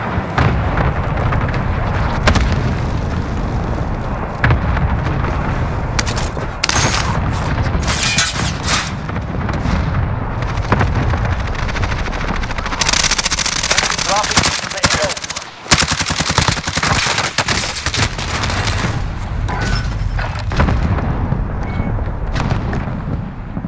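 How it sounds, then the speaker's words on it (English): Heavy barrage of cluster strike explosions and rapid gunfire in Call of Duty Warzone, loud dense booms and bursts rolling continuously without letup, with a brief lull near the middle. "Good copy. Cluster strike away."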